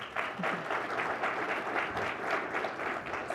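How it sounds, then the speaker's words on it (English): Conference crowd at a product marketing summit applauding the presenters, a sustained, moderately distant patter of many hands, even and unbroken throughout. "Give them a round of applause here."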